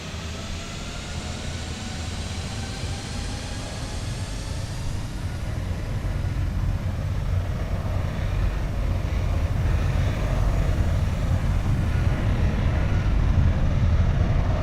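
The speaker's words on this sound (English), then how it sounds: "Sound of the jet blast." A steady roar of an IAE jet engine blast from a flight simulator sound pack, a broad, continuous rumble and hiss that slowly builds in loudness with no talking.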